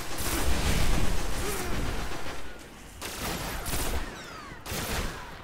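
Pulse rifle fire in the Destiny online shooter crackles in rapid bursts with booming explosions and dense battle noise, loud and continuous with brief lulls.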